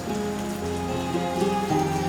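Rain falls steadily and softly on surfaces, a constant quiet patter with no voices, over a low background hum.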